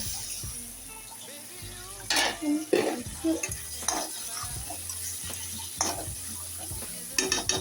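Chicken cooking in a pan at home, with a steady frying sizzle under repeated scraping and clinking stirs of a utensil against the pan, close and fairly loud.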